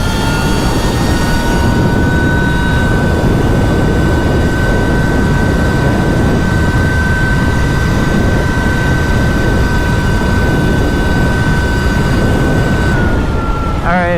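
An electric Surron-style dirt bike held at full throttle emits a loud, sustained high-pitched motor whine with steady tonal harmonics over constant rushing wind and road noise, tapering off at the end.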